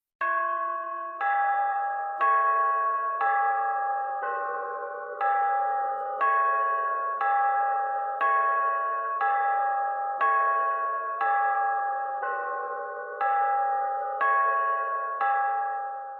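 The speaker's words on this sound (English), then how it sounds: "the clock struck midnight" A deep clock chime strikes twelve times in a slow, even rhythm, each resonant tone ringing out and decaying before the next.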